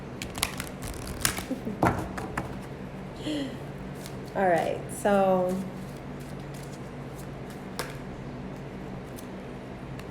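A deck of chakra reading cards is shuffled close by, with soft ruffling riffles and scattered ticks and flicks, as a person speaks briefly.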